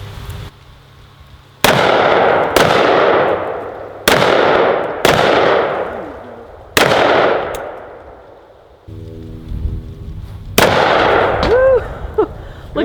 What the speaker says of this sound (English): me and Big Daddy are gonna take out all our targets down there and break out the big guns